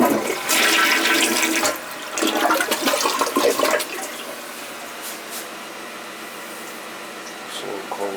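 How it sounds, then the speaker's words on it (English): A toilet with a 3-inch flush valve flushes loudly nearby, a rushing surge of water in two bursts that gives way to a quieter, steady refill trickle. "It's a 3-inch flush valve."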